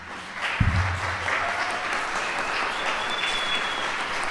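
An audience applauds after a lecture at a conference, with steady clapping from a full room that sounds moderately near and holds evenly throughout, with no talk over it.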